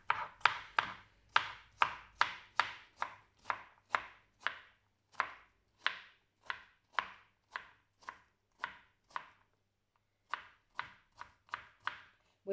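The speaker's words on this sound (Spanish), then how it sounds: "a cortarlo a trozos más chiquititos para que a la hora de freír se fría bien" A knife chops vegetables into small pieces on a cutting board, a close, crisp series of about two dozen regular strikes at a brisk even pace, pausing briefly near the end before resuming, with no talk.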